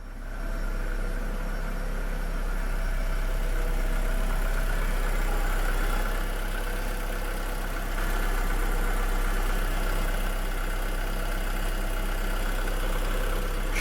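A 2011 VW SpaceFox with a 1.4 VVT engine runs at a steady idle close by, a continuous hum with a faint tapping undertone and a slight dip in level midway, no talk.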